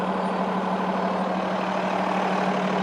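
A Cummins L9 diesel in a Freightliner M2 106 Dynamax Super C motorhome idles during an engine service, producing a steady, even rumble with no pauses and no voices.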